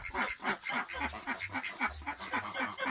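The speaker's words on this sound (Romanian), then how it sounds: "Vom începe cu rațele și cu gâștele" Farmyard geese and ducks honk and quack over and over in a rapid, bunched rhythm, close and fairly loud, with no voices.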